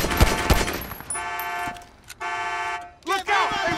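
Gunfire erupts in a Grand Theft Auto V shootout: two sharp loud shots open, then sustained tonal bursts and horn-like tones, with shouting voices near the end.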